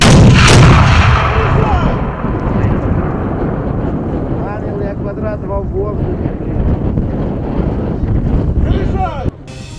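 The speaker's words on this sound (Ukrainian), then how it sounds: "Ось так із мінометів стріляють на Оріховському полігоні" Repeated heavy booms of mortar fire ring out outdoors at the Orikhiv training range, loud at first, with wind buffeting the microphone and a sharp blast near the end.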